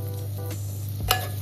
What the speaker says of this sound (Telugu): ఒక స్పూన్ అల్లం వెల్లుల్లి పేస్ట్ వేసి వేయించేసుకోవాలి.